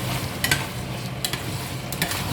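Bolognese sauce simmering in a pan on low heat, a steady bubbling hiss broken by three brief scraping stirs at regular intervals.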